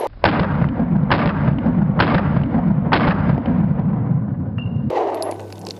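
Four loud, evenly spaced gunshots from an unported Hellcat Pro pistol firing 124 grain rounds, each a sharp close crack with a booming tail, about one second apart, followed by a sudden shift in background noise.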